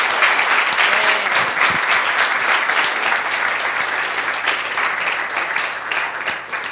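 An audience applauds a chemistry lecturer at the close of a talk, sustained even clapping that holds steady and tapers slightly at the end, with no talk over it.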